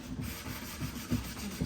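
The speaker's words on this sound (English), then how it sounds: "Before I keep going on, I'm going to sand a little tiny bit." Hand sanding of a stained wooden crate base: a few short, soft rasping strokes, close and quiet, with no voices.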